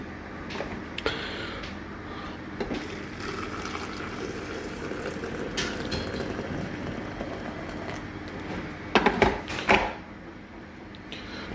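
Water is poured over compressed home-harvested tea leaves in a cafetiere, a soft running trickle and gurgle close by, with a louder splashing burst near the end.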